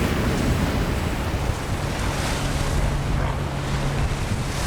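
Heavy ocean waves about three metres high pound and rush without pause around a fishing boat at night, a loud, dense roar thick with wind buffeting the microphone.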